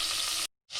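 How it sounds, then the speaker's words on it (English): Butter and a little oil sizzling in a hot pan, a bright close hiss that cuts out abruptly for a moment before resuming. "So a couple tablespoons of butter on a hot pan."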